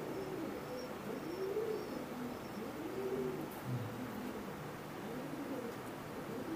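Imported Teddy pigeons coo over and over, a soft, low, rolling murmur of overlapping calls at close range, with a few faint high chirps above.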